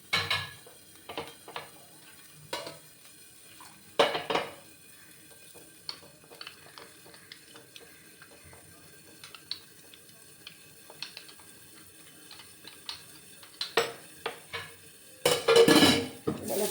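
A spoon stirs spice paste into a little water for a potato and green pea curry, giving intermittent metallic clinks and scrapes against the vessel. The sounds come in sparse bursts, with louder, busier clattering near the end.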